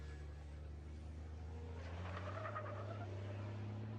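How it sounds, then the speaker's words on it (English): Tyres of a roughly 1,200-horsepower race car skating across the track surface at Slovakia Ring during 2022 qualifying, a steady distant engine drone with a rising scrubbing squeal in the middle. "listen to the tyres skating across the surface there"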